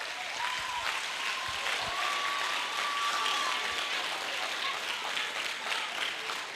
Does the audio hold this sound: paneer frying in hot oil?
no